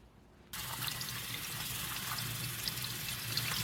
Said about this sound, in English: this is me washing the methi leaves out thoroughly